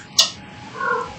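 A cat makes a sharp little click and then a soft, short, tonal vocal sound, close and quiet, with no talking.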